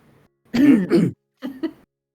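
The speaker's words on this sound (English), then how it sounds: "I clear my throat." A person clears their throat in two short, gruff bursts, close and distinct, with brief silence around them.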